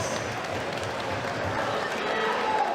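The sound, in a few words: crowd applause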